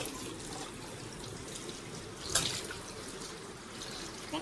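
Tap water runs steadily over cut leafy greens being washed in a kitchen sink, a continuous splashing wash with one brief louder splash partway through.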